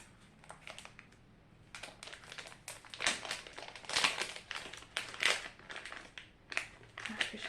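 Plastic packaging around a pair of water drop earrings being opened by hand, a series of close, sharp crinkles and rustles in irregular bursts that build toward the middle, with a quiet room behind.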